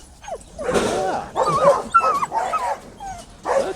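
An unhappy dog barks and whimpers close by in a burst of repeated, agitated yips and whines, with short pauses between outbursts.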